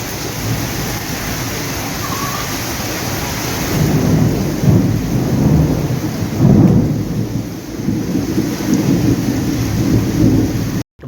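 Rolling thunder rumbles steadily through heavy rain during a village rainstorm, with louder swells of thunder around the middle and no talk.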